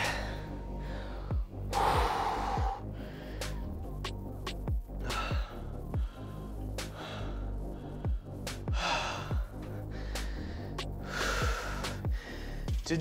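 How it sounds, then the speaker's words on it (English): Heavy, audible breaths after a fitness workout, a string of loud gasps and sighing exhales repeating every second or two, close to the mic with a low steady hum beneath. "let's breathe a little bit"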